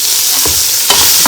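Sweet corn being stirred in a hot frying pan for Chinese fried rice, giving a loud, steady sizzle with a couple of scraping stir strokes across the pan, close and alone.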